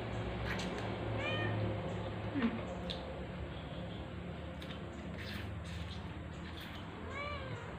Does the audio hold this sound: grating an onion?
no